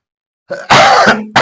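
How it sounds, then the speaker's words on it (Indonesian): A single throaty cough, close and fairly loud, followed by a brief rough exhalation and another burst at the end. "Nah, ini batuk ya."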